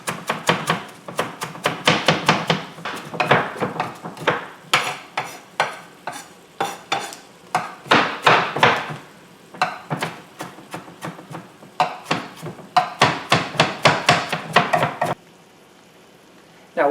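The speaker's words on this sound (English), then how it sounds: "I have some fresh parsley and I'm just going to chop it" Fresh parsley chopped on a board with quick rhythmic knife strokes in bursts, each run of rapid taps pausing briefly before resuming, while fish cooks nearby; close and fairly loud, no talk.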